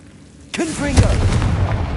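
A Confringo explosion spell in Hogwarts Legacy goes off: after a moment of quiet, a voice calls out, followed by a loud, deep blast whose rumble carries to the end.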